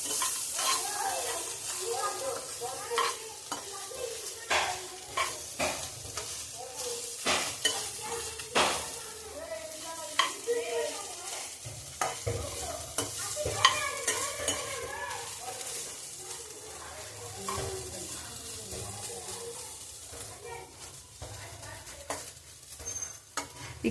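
Ingredients for a country-chicken sambar frying in oil on a low flame, a soft sizzle broken by repeated spoon stirs and scrapes against the pan, fairly quiet throughout.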